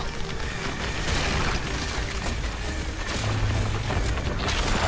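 Missiles explode in a PlayStation All-Stars battle, layered booming blasts and crackling bursts rolling continuously over a busy game soundtrack.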